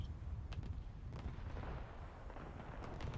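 Battleship gunfire in a naval battle video game, several sharp distant booms and cracks spread through a few seconds over a low rumbling background, fairly quiet and without talk.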